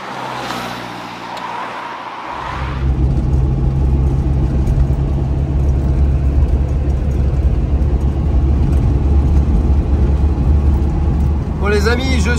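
A VW Beetle drives on the road after its brakes were bled, its engine a steady low drone close by once it gets going, after a quieter start with some talk.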